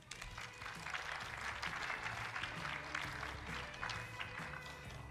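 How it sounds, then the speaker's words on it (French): An audience applauds a guest at a French televised talk show about wine, with broad, sustained clapping from a room full of people. The applause is steady and fairly faint in level and runs for several seconds. "Vous pouvez l'applaudir."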